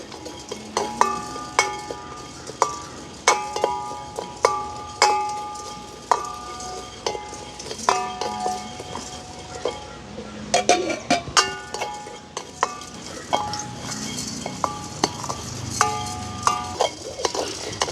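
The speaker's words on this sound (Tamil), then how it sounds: "அதோட பார்த்திங்கன்னா ஏலக்காயும் போட்டு வறுத்துக்கொள்ளுவோம்" Cardamom pods are dry-roasted and stirred in a pan, with a spoon scraping and clinking against the metal in a steady, repeated rhythm that stays close and clear throughout, with no talking.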